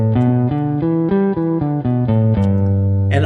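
A major pentatonic scale played as a run of distinct synthesized notes, about eight even steps rising and falling in pitch, clear and close, ending on a held note.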